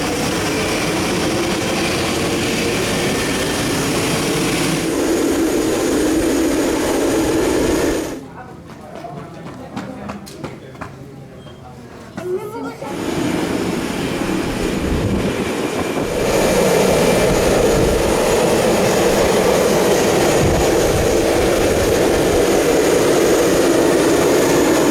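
Boeing 737-200 jet engines roaring steadily during arrival, loud and broadband with a brief muffled dip partway through before the engine noise returns at full strength.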